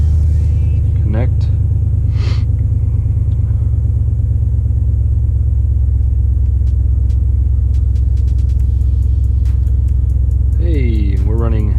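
Engine of a Jeep SRT idling, a loud, steady low rumble that holds throughout, with someone talking over it.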